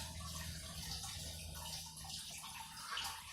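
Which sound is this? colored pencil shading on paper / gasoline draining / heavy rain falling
gasoline draining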